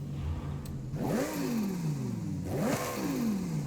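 Racing-exhaust Lamborghini Huracan STO in Forza Horizon 5 idles briefly, then blips twice, each rev rising sharply and decaying in a falling whine, loud and close without speech.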